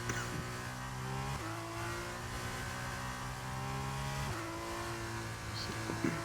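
Steady, sustained whine of F2 race car engines in a sim racing game at Bahrain or Azerbaijan, holding close and loud with gear changes that drop the pitch twice, and no talk.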